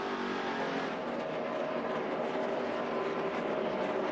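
NASCAR Sprint Cup stock cars racing at Martinsville Speedway in 2011, a steady, loud wash of engine roar from the field with no clear single pass, held at an even level throughout.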